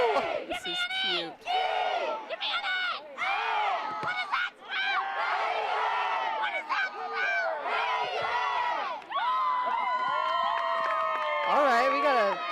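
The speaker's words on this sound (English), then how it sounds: "we got a cheer person in the crowd here, leading the cheer, riling them up, bringing the energy" A crowd at a high school boys' varsity soccer game, Hazen against Green Mountain, with a cheerleader leading rhythmic chanted cheers; many voices shout in bursts, loud and close, with some calls sustained.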